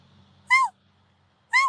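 A human voice imitates a mountain lion chirp: two short, high, bird-like chirps about a second apart, close and clear against near silence.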